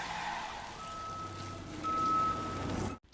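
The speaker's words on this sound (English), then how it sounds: "I also love that like Ronan's ship has like the background like beeping noise" Steady electronic beeping aboard a spaceship in the Ninjago animated series, a sustained tone over a dense mechanical hum that cuts off abruptly at the end.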